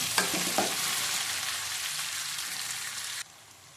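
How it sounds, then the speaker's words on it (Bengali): Spice masala frying in hot oil, a continuous bright sizzle with a couple of utensil taps near the start, then abruptly dropping to a quieter hiss near the end. "কষানো হচ্ছে।"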